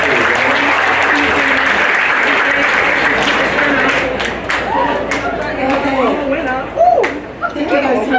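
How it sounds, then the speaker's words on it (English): A crowd at a senior assembly breaks into loud, sustained applause, heavy and continuous at first before thinning out, with some voices and cheers mixed into the clapping. "Let's applaud for them."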